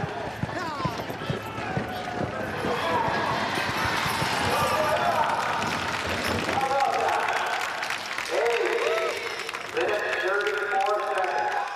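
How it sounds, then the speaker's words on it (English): Spectators cheer and clap at a mule pull, a broad, steady crowd roar with overlapping voices and applause running throughout, fairly close, with people talking over it. "Come on, let's cheer him on there."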